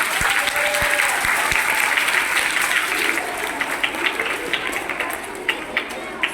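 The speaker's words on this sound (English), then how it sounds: "Give them a big round of applause." A school audience applauds after an inter-house orchestra performance by grade 3-5 students, loud sustained clapping from a crowd with a few sharp claps at the start, thinning into scattered individual claps near the end.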